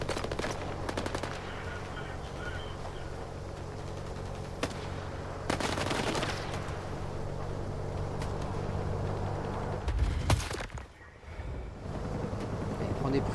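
Automatic gunfire rattles out in the video game S.T.A.L.K.E.R. 2: Heart of Chernobyl, with repeated bursts and single shots cracking over a constant background rumble and a loud blast near the end.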